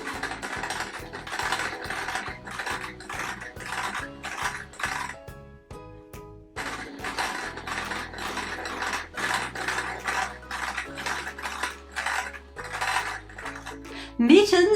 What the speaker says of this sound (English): I'm getting better with using the sewing machine and stitching around the fabrics